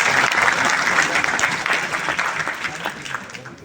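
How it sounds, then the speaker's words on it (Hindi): An audience at a poetry gathering, a kavi sammelan, bursts into applause: a loud, dense round of clapping that carries on steadily, easing off slightly near the end. "एक बार तालियां बजाकर बताएं मुझे"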